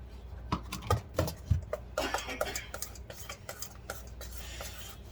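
A spoon stirs flour into strawberry shortcake bar batter in a bowl, giving a run of soft, irregular scrapes and knocks against the sides. Sharper clinks come early, then quieter stirring continues close up.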